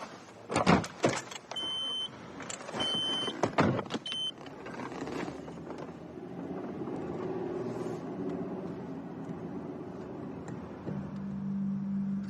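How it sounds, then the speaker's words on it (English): A car passes by outdoors with a swelling then fading engine rumble, preceded by several sharp clicks and knocks, with no talking. "Is that Rachel's car"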